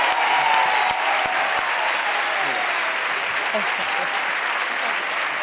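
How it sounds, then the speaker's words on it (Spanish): Steady, dense audience applause at a televised Spanish drag gala, a continuous wall of clapping from a large crowd lasting throughout without pause. "Un aplauso para el trono de la Loles"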